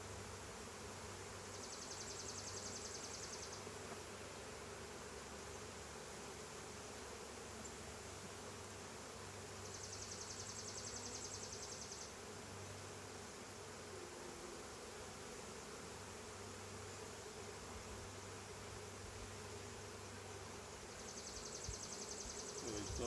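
Honey bees buzzing around an opened hive being checked, a dense continuous drone, quiet but steady, swelling in a few waves.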